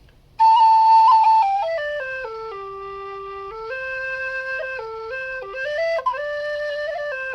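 A Carbony Mezzo low whistle plays a clear, sustained melody, its notes stepping up and down with steady tone, loud and close with no voices.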